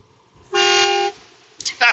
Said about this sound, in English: I honked and he waved at me.